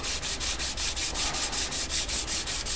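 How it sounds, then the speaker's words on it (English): Micarta being sanded by hand with 400 grit sandpaper, a steady rhythmic back-and-forth rasp of even strokes, close and loud, with no voices. "I'm here at about 400 grit sandpaper right now"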